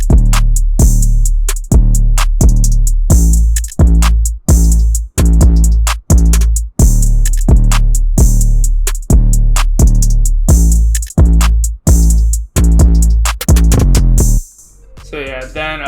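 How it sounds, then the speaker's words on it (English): Full drum pattern of a trap-style FL Studio beat with a guitar-based instrumental, steady loud kicks, snares and rapid hi-hat rolls looping for about fourteen seconds before dropping to a softer, filtered tail. "So all the drums together sound like this."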